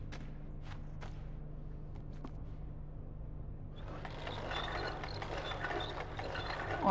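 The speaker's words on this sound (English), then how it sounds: "Do I just gotta grind the meat?" Meat grinder being cranked in Little Nightmares: a few sparse mechanical clicks over a low hum, then a rising grinding, churning rattle that builds and grows louder toward the end, with no talk.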